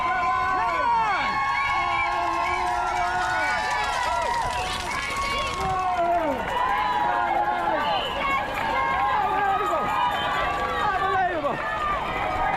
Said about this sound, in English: It's so noisy! It's unbelievable! Listen to the crowd!